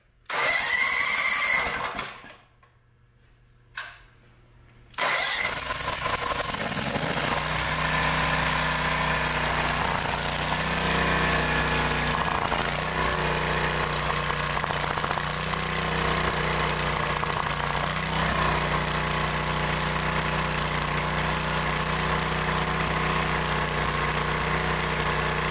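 An engine starts up after a brief sputter and a short pause, then settles into a steady, loud idle that runs on evenly for over twenty seconds, now running properly after an intake manifold gasket replacement.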